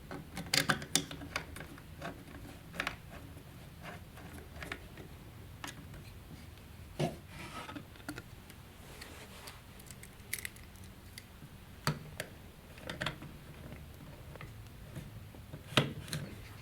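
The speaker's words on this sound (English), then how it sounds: "Insert a screw into the latch, and then install the latch on the base." A screw is driven by hand into the plastic latch of a kayak pedal drive base, faint close ticks and clicks at an irregular pace over a quiet background.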